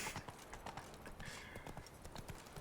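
Roach the horse trots in The Witcher 3, hooves clip-clopping in a quick, even rhythm, close and continuous.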